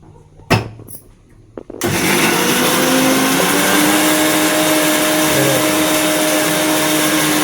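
A kitchen mixer grinder grinds coconut, coriander powder and sambar spice powder into masala, a loud, steady whirring drone starting abruptly after a few soft clicks and continuing close up to the end.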